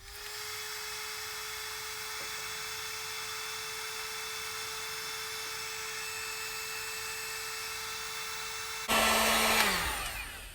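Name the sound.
heat gun blowing on wiring, 1953 Chevy truck fuel pump install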